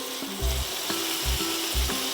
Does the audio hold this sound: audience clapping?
no